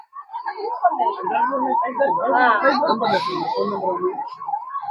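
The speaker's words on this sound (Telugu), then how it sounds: "వెంటనే అంబులెన్స్ వచ్చింది కదా" An ambulance siren at a crash scene where a sand lorry hit a state bus near Kothagudem wails close by in a fast rising and falling warble, loud and continuous.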